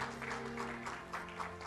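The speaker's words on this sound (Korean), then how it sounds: "축하의 박수를 부탁드리겠습니다." Congratulatory applause at a temple's 60th anniversary ceremony, a brief, even crowd clapping that sounds somewhat distant and soft, with no talk over it.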